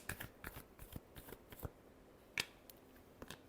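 Tarot cards are shuffled by hand in a quiet room, a series of soft crisp riffles and slaps spaced irregularly, close and faint.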